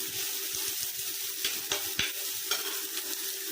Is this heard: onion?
yes